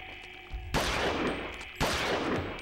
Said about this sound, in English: That's a freaking awesome pistol sound effect, I gotta give him that.